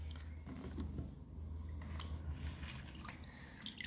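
Washed, desalted olives draining in a colander, with faint drips and small wet trickles falling at intervals over a low steady hum, soft and close.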